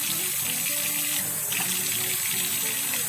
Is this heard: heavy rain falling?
no